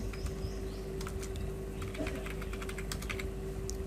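Rapid, uneven clicking of computer keyboard keys as a mobile number is typed in, close and steady over a low hum, with a few faint chirps in the background.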